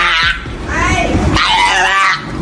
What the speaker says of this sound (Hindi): अब जरा इस सील को भी देख लेते हैं, जो पानी से बाहर आकर अपनी सुरीली आवाज में चिल्ला रही है।